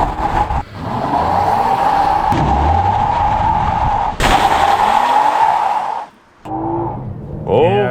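A 2023 Toyota Camry XSE V6 does a loud burnout: sustained close tire squeal and revving engine through first gear, a brief dip at the gear change, then a talking voice over the tail of the run.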